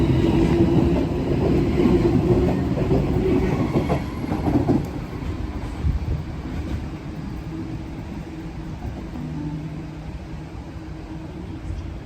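Train rumbling through Epping station in Sydney, a steady loud roll of wheels on rails that is heaviest early and eases slightly, continuing alone without talk throughout.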